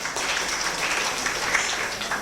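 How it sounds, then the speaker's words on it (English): An audience claps steadily through the whole stretch at a Rotaract club installation ceremony in Kampala, a broad, even wash of applause without a break. "Let's clap for him."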